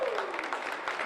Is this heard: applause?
yes